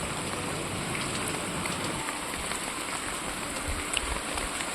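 Heavy, continuous monsoon rain pours during flooding in Raigarh, a dense, steady hiss of drops drumming on surfaces that stays even throughout with no voices.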